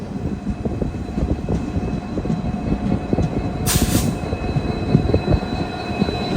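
The Karwar–KSR Bengaluru Panchaganga Express at Karwar station, a loud rolling clatter of wheels with dense rhythmic clicks and a thin metallic squeal, plus a brief bright hiss midway.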